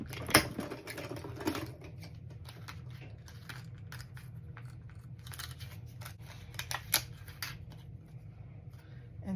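A hand-cranked manual die-cutting machine presses paper through its rollers, giving a steady low grinding rumble with scattered sharp clicks and crinkles near the start and middle; no one speaks.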